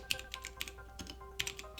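Keystrokes on a computer keyboard, typed during a Linux lab session, sound close and crisp: a few irregular clusters of clicks and taps with short pauses between them and no talk.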